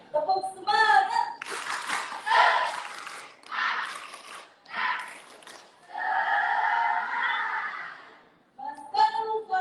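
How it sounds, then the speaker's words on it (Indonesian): An audience claps in a rhythmic cheer pattern at an Islamic study gathering, bursts of clapping alternating with short gaps and group voices, fairly close and moderately loud. "Tepuk semangat."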